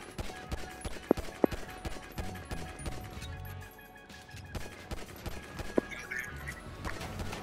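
Gunfire in Grand Theft Auto V: scattered sharp shots, a few standing out clearly around the middle and later, over a dense, busy game background with no clear voices.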